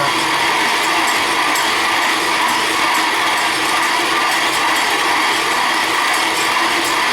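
Country Living hand-cranked grain mill grinding brown rice into flour, a loud, dense, continuous gritty grinding with a faint rhythmic mechanical ticking throughout, close and unbroken.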